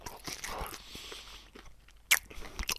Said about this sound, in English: That crunch, man.